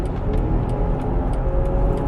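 BMW X5 2021 SUV in sport mode maneuvering, a steady close engine hum with road and tire roar throughout, moderately loud and unbroken.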